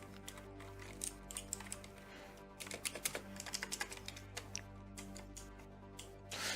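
Rapid, light clicking of keys on a cheap mechanical keyboard patters on closely and fairly quietly, coming in bursts over a steady low hum.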